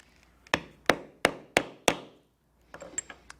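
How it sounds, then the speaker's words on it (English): Hammer striking a rivet setter to set rivets in leather, five sharp, evenly spaced close knocks followed by a few lighter taps. "And with the rivet setter, we will set the rivets."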